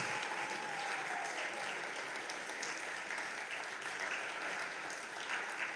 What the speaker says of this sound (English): Please give a big round of applause for Abe Bagali.